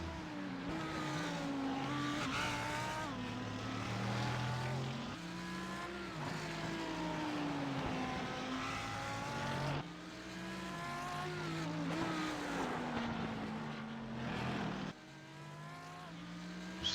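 Simulated sports car racing at Detroit, with race car engines whining continuously as their pitch rises and falls through gear changes, and occasional tire squeal, steady and close throughout.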